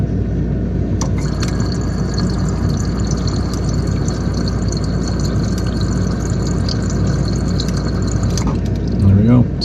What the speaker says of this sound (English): The water should kick on here in a few seconds.